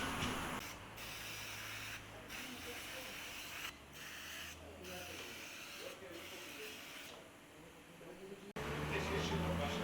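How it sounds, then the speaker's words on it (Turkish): Brake cleaner sprays in a steady, close hiss for several seconds onto the rear brake drum parts of a Volkswagen Polo 16v, with brief pauses between bursts. "Şimdi balata spreyimizi de sıkacağız."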